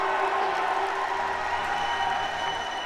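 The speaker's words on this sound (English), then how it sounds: "And a colossal roar from the crowd" A crowd roars and applauds at a powerlifting championship, the African Championships in Algiers, a sustained, fairly loud mass of cheering and clapping from a large audience.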